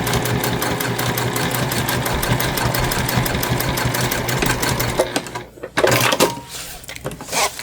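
A sewing machine stitches through layers of fabric and foam at a quarter-inch seam with a fast, even mechanical chatter close by, then stops briefly near the end before a few short bursts of handling and stitching.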